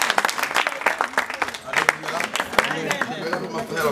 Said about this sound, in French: Vraiment, on acclame très fort pour notre Dieu.